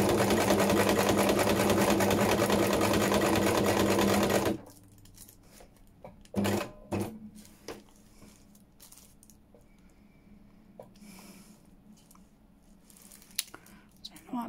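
A sewing machine stitches around tissue on fabric for a botanical junk journal cover topper, running loud and continuous for about four seconds, then stopping and giving way to quiet handling clicks and taps.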